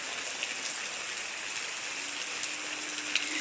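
Steady rain falls through the night and keeps going, giving a continuous soft hiss like rain on surfaces around a house, moderately quiet, with a few faint drips and no talking.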